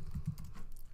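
Several quick, soft keystrokes on a computer keyboard as a name is typed, close and faint, over low background hum.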